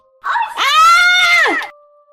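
A single sustained scream in a horror audio drama about an aswang, rising sharply, holding steady and loud for over a second, then breaking off into near silence with a faint steady tone behind.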